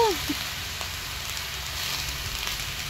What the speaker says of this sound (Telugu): వీటిని మంచిగా ఫ్రై చేసుకోవాలి